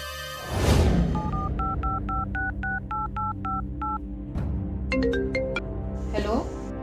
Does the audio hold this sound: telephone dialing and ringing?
yes